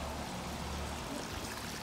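Water runs steadily in a backyard, a soft continuous rushing trickle that stays faint and unbroken throughout with no voices.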